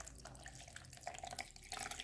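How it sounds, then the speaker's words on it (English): Fertilizer water is poured into a phalaenopsis orchid's water culture container, a faint steady trickle and splash with small bright drips, heard alone and close. "So I'm going to just pour this in here."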